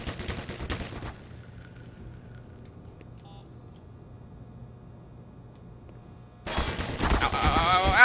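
Gunfire at head crabs in the video game Black Mesa: a rapid burst of automatic shots at the start, a quiet stretch of low ambience, then dense loud firing returns near the end.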